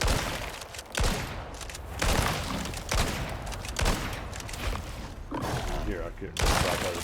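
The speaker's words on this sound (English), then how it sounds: "here's where I'm going to wind up using my gun" A gun fires repeatedly in a video game, a series of loud, broadband blasts roughly every second, each followed by a ringing decay, filling the scene over a dense, noisy background.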